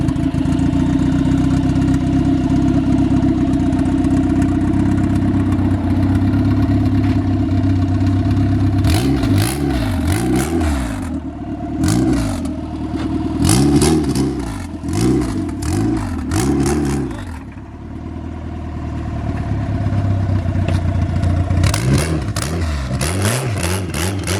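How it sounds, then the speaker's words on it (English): A Honda Integra engine idling steadily while warming up, then revving and accelerating several times as the car pulls away up the street, loud and close with no voices. "So let's turn the car on, let it warm up a little bit, and then take it up the street with the lights on."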